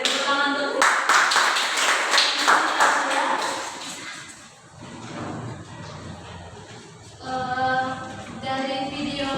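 Classroom group clapping after a children's story is told, a burst of claps in the first few seconds that fades, followed by a quieter stretch and then voices speaking again near the end.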